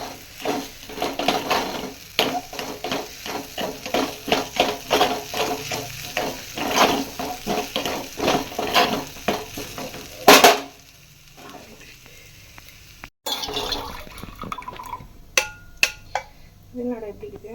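Sweet potato pieces sizzle in ghee in a pan while being stirred, with rhythmic scraping and frying crackle for about ten seconds, then a pause and a few sharp spoon knocks; a voice speaks intermittently.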